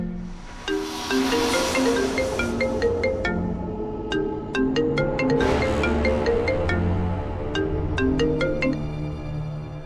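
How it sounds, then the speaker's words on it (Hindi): A phone rings on and on unanswered, a melodic electronic ringtone repeating its chiming pattern steadily for about ten seconds, close and clear, with no voices. "सर कोई फ़ोन नहीं उठा रहा है।"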